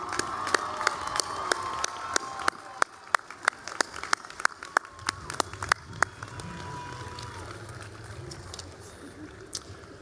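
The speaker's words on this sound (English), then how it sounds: "round of applause." Graduates at a university commencement ceremony break into a long round of applause, loud, scattered claps crackling steadily for about ten seconds and gradually thinning toward the end.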